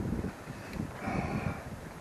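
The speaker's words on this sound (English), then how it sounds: "This wind is just killing us." Wind blowing on a hill, a continuous rough buffeting rumble against the microphone, steady and fairly loud throughout with no voices.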